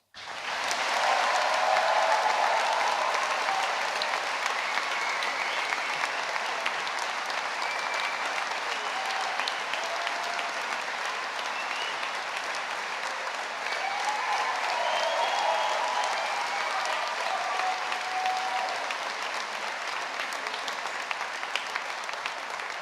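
A long, sustained round of applause for graduating business and management students of 2016, dense and even from start to finish, with crowd noise and faint voices mixed in.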